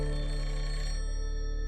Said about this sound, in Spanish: El sonido del teléfono de John Condon rompe el silencio de su apartamento en el Bronx.